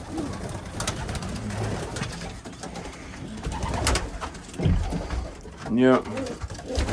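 Young pigeons coo near the microphone while someone talks, with a brief flutter of wings as birds take off.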